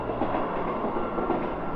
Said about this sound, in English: Oh, there's a train, look.